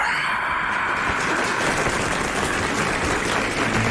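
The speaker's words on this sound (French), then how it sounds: "Le public applaudit." A theatre audience claps steadily in a dense, even wash of applause that holds at full strength throughout, with no voices standing out.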